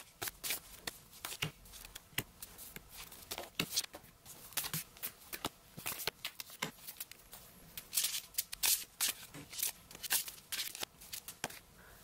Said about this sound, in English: I'm going to lay out all the cards